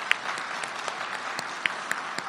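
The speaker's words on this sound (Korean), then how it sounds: "박수 한번 해주시죠" Steady applause from an audience at a regulatory free zone investment agreement ceremony in Pohang, a dense wash of clapping with a few sharper individual claps standing out.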